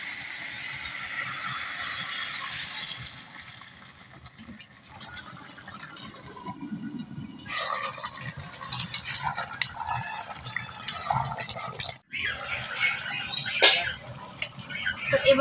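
Broth is poured into a pot of simmering stalks, pumpkin and greens, giving a splashing liquid fill with clatters and bubbling, moderately loud and uneven, near the microphone.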